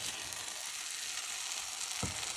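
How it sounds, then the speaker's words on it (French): Choux pastry dough cooking and drying in a hot pan for a few minutes gives a soft, steady sizzle close by, with a brief scrape or stir near the end and no talking. "je laisse cuire 2 à 3 minutes supplémentaires pour bien dessécher la pâte"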